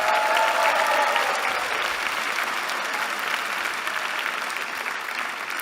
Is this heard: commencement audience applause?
yes